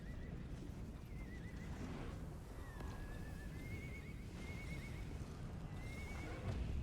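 Repeated high, quavering horse whinnies from the unicorn bow in Guild Wars 2 ring out one after another over a thick, noisy wash of game sound, with what resembles hoof clatter.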